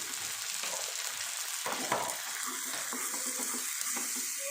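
Tomatoes and ginger-garlic paste sizzling and sautéing in a hot pan for a fish dish, a steady crackle with occasional stirring scrapes, close up and without talking.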